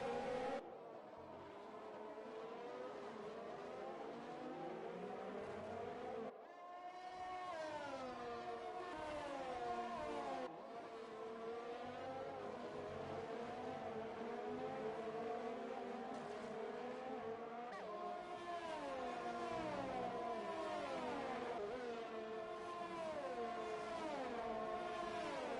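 Several race car engines whine and rise and fall in pitch on a Brazil circuit in a racing video game. The sound is faint but continuous, with overlapping revving and gear changes and no talk.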